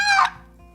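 A wooden box turkey call, its paddle slid across the lid, gives one short, raspy, high hen-like squawk up close, then fades into quiet background hum.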